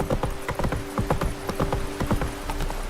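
Hooves of the horse Roach gallop in a fast, steady clip-clop rhythm through The Witcher 3, loud and close, with a faint tonal hum running underneath.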